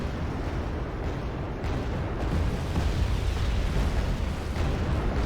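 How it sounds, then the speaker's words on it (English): Bombs exploding in the strategy game Wargame: Red Dragon, a continuous heavy rumble of blasts and booms, loud and dense throughout with no clear gaps and no talk. "let me drop your bombs in this"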